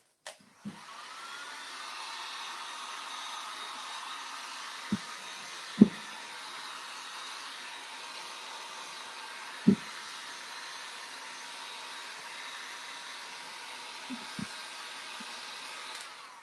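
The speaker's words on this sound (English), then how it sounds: "I am going to hit this with a hairdryer" A hairdryer blows on a clay pot coated in wet limewash, a steady close whooshing hiss lasting throughout, broken by a few sharp knocks and taps.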